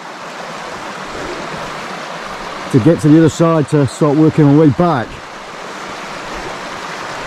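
Steady broadband rush of a river flowing near a dam, continuous and fairly loud, with someone talking briefly over it midway.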